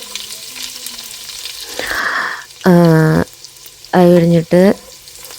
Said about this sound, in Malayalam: അതൊന്ന് വാടി വരുന്നവരെ ഒന്ന് ഇളക്കി കൊടുക്കും